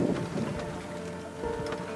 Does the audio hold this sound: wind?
yes